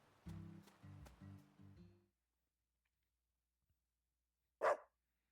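A dog in the video game Deadly Premonition 2 gives a single short, sharp bark near the end, after a few seconds of near silence that follow a brief game music phrase of repeated chords.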